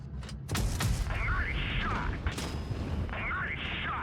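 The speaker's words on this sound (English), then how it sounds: "He shot some premium rounds at me" Tank cannon rounds in a tank battle video game: two sharp, loud booming shots about two seconds apart, each trailing into a rumbling tail with engine hum beneath.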